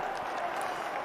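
A stadium crowd and the Irish substitutes on the sideline cheer at a Six Nations rugby match between Wales and Ireland, a brief, steady wash of roaring and clapping with no clear individual voices.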